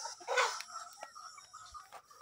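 Chickens on a small backyard farm cluck and murmur at close range, with a brief louder burst near the start, followed by softer scattered calls and faint background rustling.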